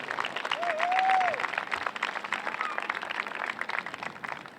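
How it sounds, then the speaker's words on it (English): A crowd applauds at a varsity high-school softball game, Saugus against Waltham, honouring youth league players and coaches. The clapping is dense and continuous and fairly distant, with a brief whistle-like tone early on. "Let's give a big round of applause"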